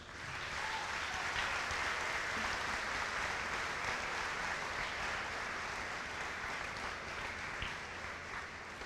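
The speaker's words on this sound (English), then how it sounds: "I would like to take a moment so that you can applaud your families and friends for everything that they've done for you" A school auditorium crowd at a middle school promotion ceremony applauds families and friends with broad, continuous clapping that stays steady and fairly distant throughout.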